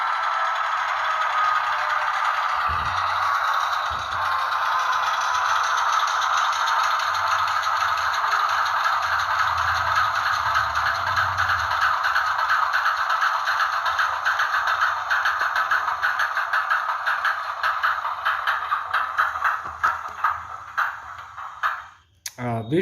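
A Mehano HO scale Blue Tiger DE AC-33-C model locomotive runs with a steady whirring motor tone and rattling wheels, then slows into rapid clicks and stops at the end, with a person talking faintly in the background.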